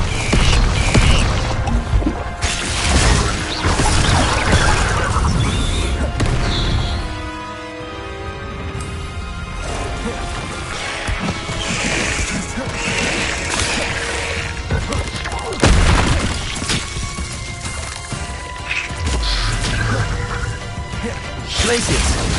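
Repeated Confringo blast spells in Hogwarts Legacy hammer out smashing, thudding impacts with whooshes among busy combat sound effects, with the loud hits coming back at intervals across the fight.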